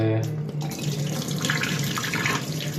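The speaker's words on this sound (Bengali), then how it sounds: "ডালটা ধুবো তো দেখতেছেন ডালটা ধুইতেছি" Lentils (dal) are rinsed under a running kitchen tap, giving a steady, close rush of water splashing into a sink with light sloshing throughout.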